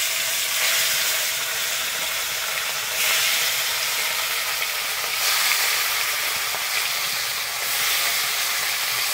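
Tarai fish fries in mustard oil in a kadai with a loud, steady sizzle and hiss that swells in waves as the pieces go in one by one.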